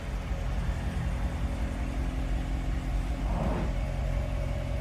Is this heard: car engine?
yes